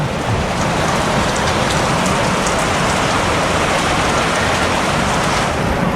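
Heavy rain pours down steadily during an e-bike ride, a loud, dense hiss of drops hitting surfaces that stays constant and close throughout with no talking.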